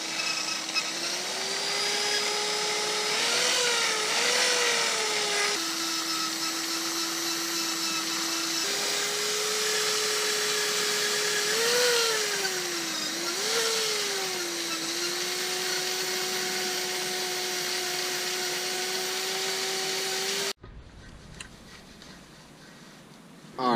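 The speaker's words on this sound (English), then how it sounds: "got a wire brush, and we're just going to wire brush around it" A powered wire brush scrubs sealant off a car wheel on a Weds Kranze rebarrel, a steady whirring tone that wavers in pitch under load for about twenty seconds before cutting out.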